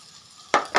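Drumstick leaves deep frying in a pan give two quick, close bursts of stirring and sizzling that follow a faint, quiet background.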